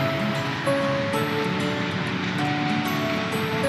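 A TFO twisting machine runs in a Surat textile mill, spindles turning on bearings to twist raw yarn, making a loud, steady whirring drone with sustained tonal whines and no breaks.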